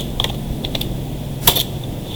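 Someone types a product name in Urdu on a computer keyboard. Sparse, light key clicks come in small clusters, with one sharper tap partway through, over a quiet room hum.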